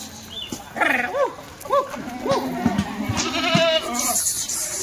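Kathiawadi dairy goats in a pen bleat repeatedly at close range, several wavering overlapping calls one after another, with faint voices in the background.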